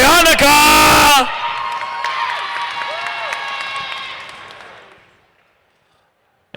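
Robotics team members cheering at a First Tech Challenge competition in the Canadian Rockies, a loud burst of shouting and whooping from a crowd that drops to a sustained, echoing cheer and fades away.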